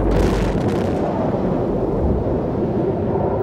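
Nuclear bomb test explosion, a loud continuous rumbling roar with a bright crackling burst at the start that settles into a dense low rumble, with no talk.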